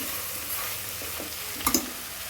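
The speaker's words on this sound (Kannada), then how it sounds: "ಹೀಗೆಲ್ಲ ಫ್ರೈ ಮಾಡ್ಕೊಳ್ಳೋಣ" Vegetables for a green vegetable biryani fry in a pan with a soft, even sizzle, and a couple of brief utensil scrapes come near the end.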